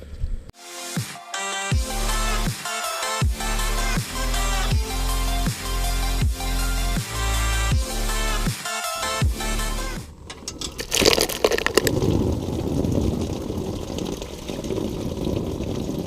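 Engine coolant gushes out of a BMW E36 as it drains: a sudden rushing splash of liquid near the end, following a stretch of steady, rhythmic music.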